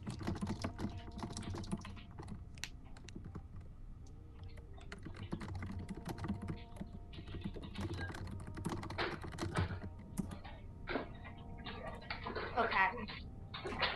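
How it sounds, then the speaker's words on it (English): Keyboard typing runs throughout, steady clicking under background voices and noise during a tabletop role-playing game session over Skype. "Just type it out."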